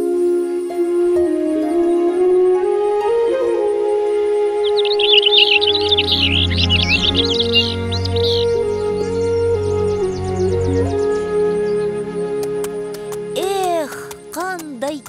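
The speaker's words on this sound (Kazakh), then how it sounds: "құстардың сайрауы қандай керемет." Cartoon birds chirp and trill in a mountain landscape, a burst of high tweets in the middle under music and a voice speaking, with a few more calls near the end.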